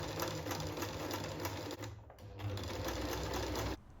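Sewing machine stitching a seam along the folded edge of a handmade British Union Flag, a fast steady mechanical whir with a brief pause midway before running on and stopping near the end.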